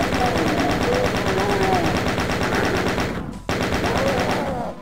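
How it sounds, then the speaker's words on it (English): Chaingun fire in the Doom video game rattles in a dense, loud, continuous burst of rapid shots, breaking off for a split second before resuming at the same relentless pace. "Seems like the chain gun's pretty much the way to go there, though."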